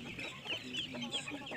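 Free-range village chickens cluck continuously at a moderate distance, with several birds overlapping in short irregular calls on a small Indonesian poultry farm.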